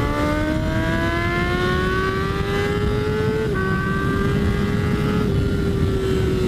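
A Yamaha R6 sport bike engine screams at high revs, holding a loud, steady whine that climbs gradually in pitch with a brief dip midway as the rider shifts, close and continuous with no voices.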